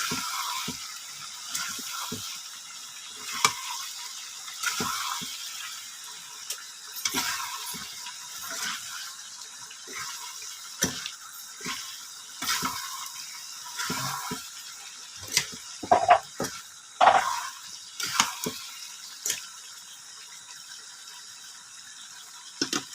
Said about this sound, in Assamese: এতিয়া আকৌ অলপ সময় লৰাই দিম ভাজিবলৈ